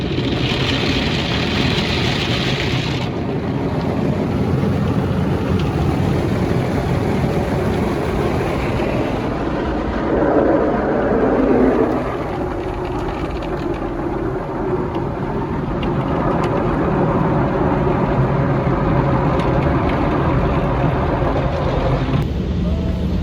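A car sits idling in an automatic car wash, its steady low engine hum running under a continuous wash of spraying water and brushes, with a louder surge of spray midway through.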